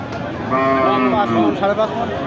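A single drawn-out moo from a bullock sounds close by, rising and falling, over a soft background hum of an outdoor cattle market.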